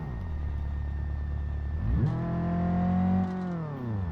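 A simulated manual car engine in BeamNG.Drive drones steadily, then revs drop as the clutch goes in and the engine note rises again in a higher gear, loud and close without talk.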